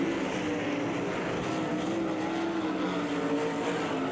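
Race cars circle in a 25-lap feature event at I-96 Speedway, a steady loud engine drone holding throughout with a faint pitch sweep as cars pass, no voices over it.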